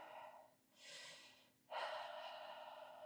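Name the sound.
breathing during a Pilates exercise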